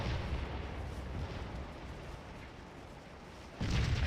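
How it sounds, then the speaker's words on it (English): Civil War battle artillery rumbles in a continuous low, booming wash of distant cannon fire, swelling into a louder, closer blast at the very end. "Boy, all this artillery out here is... They've all got targets."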